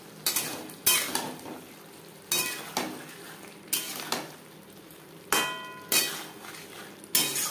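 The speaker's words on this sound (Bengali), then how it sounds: "হাই টু মিডিয়াম ফ্লেমে আরও 2-3 মিনিট নাড়াচাড়া করে নেব" Spiced elephant foot yam and potato frying in a pan, a low sizzle broken by repeated loud scrapes and clanks of a spatula stirring against the metal at irregular intervals, no talk.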